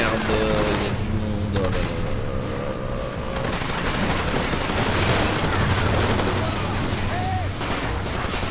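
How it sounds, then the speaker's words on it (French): Rapid gunfire in the shooter Far Cry 2 as enemies shoot up their own fuel tanker, a dense continuous fusillade of shots and impacts with brief faint musical tones, lasting throughout. "Ils ont tiré sur leur propre citerne."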